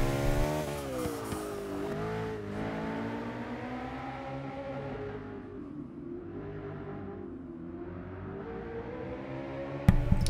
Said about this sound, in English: It sounds so good with that V8, the twin turbo V8. 650S.